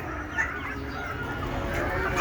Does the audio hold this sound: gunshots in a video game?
no